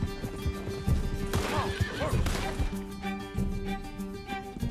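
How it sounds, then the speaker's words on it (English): Galloping hooves of a horse in Red Dead Redemption 2 pound rapidly, then a loud, close neigh rises in the middle of the run before the rhythmic clip-clop carries on over background game music. "Can't this horse go any faster?"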